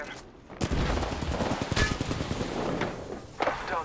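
Video game gunfire rattles in rapid automatic bursts with scattered single shots, loud and close, while players shout over the shooting.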